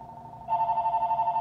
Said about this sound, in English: We got the phone call.